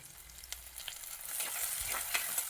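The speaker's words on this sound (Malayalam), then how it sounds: "വെളിച്ചെണ്ണ ചൂടായി വരുമ്പോൾ 10 ചുവന്നുള്ളി അരിഞ്ഞതും 2 പച്ചമുളകും ചേർത്തൊന്ന് വഴറ്റാം." Chopped shallots, green chillies and curry leaves sizzle and crackle in hot coconut oil, with a steady frying hiss broken by occasional stirring scrapes, close and moderately quiet.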